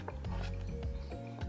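A ladle or spoon clinks and scrapes against a pot while dipping into thick pastry cream, with short metallic taps and a faint rubbing sound, close and quiet.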